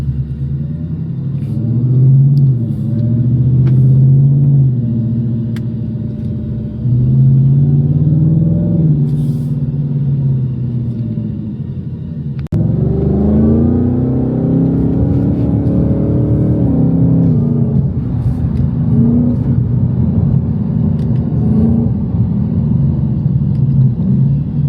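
A Shelby Super Snake's deep, throaty exhaust, valve open, rumbles steadily and loudly, with low revving swells and a brief lift before the drone picks back up.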